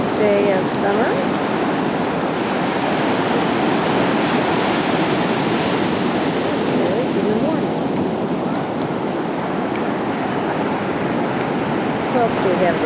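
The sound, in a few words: ocean waves on the beach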